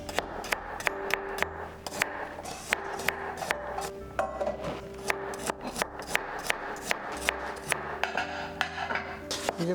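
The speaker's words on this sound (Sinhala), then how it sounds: "මෙතන සුදු ලුණු බික් 4ක් විතර තියෙනවා. ඒ ටික ඔක්කොම පොඩි වෙන්න කපා ගමු." A knife finely chops about four garlic cloves on a board, making a run of crisp, evenly spaced taps. The cuts are close and clear, with no talking.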